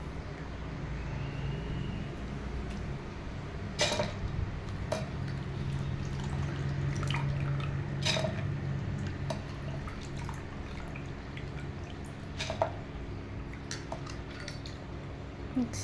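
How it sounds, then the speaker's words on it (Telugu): Water is poured over soaked split black gram (urad dal) in a mixer jar in a home kitchen, a faint, close trickle and drip with a few light clinks of the jar and no talking. "వీటిలో తగినంత వాటర్ పోసేసుకున్నాము. కొద్దిగంత వాటర్."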